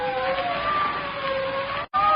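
A steady wailing police siren from an old radio drama, fairly loud and continuous, cut off briefly near the end before resuming.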